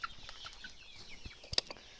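Quiet clucking from a few chickens nearby, soft and scattered, with one sharper squawk partway through.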